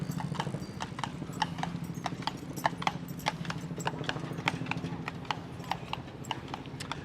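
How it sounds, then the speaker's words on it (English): Hooves of a carriage horse in Central Park clip-clop on pavement in a steady, even trot, crisp and fairly close throughout, over a low hum of city background. "would you consider this a horse buggy or a carriage, ladies and gentlemen? Because carriage rides are still a thing here"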